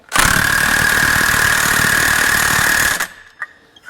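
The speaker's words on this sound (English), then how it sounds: "we're gonna just yank on there with the impact at 120" An impact wrench set at 120 hammers on a bolt during clutch work on a Cub Cadet Challenger 500, one loud, steady buzzing burst of about three seconds that cuts off sharply, followed by a couple of light clanks.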